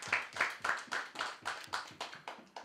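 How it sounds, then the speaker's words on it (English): At the Festival 2017 launch press conference, hands clap in a steady, even rhythm, about ten sharp claps close together at a regular pace, fairly close and distinct. "Give them a round of applause, please."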